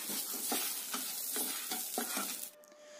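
Grated coconut and masala are stir-fried in a pan for cauliflower curry, with a soft close sizzle broken by about six rhythmic spatula scrapes, then a sudden drop to quieter hiss near the end.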